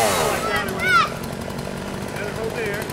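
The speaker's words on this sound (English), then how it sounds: "Nathan using the chainsaw." A chainsaw cutting through a tree during a backyard tree removal, a steady buzzing drone with a brief revving rise, moderately loud under faint background voices.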